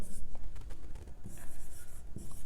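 Chalk scratches and taps across a board during a maths lecture on De Moivre's theorem, a quick run of short, rough strokes close by.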